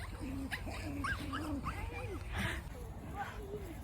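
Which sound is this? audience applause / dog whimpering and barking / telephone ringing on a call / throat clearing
dog whimpering and barking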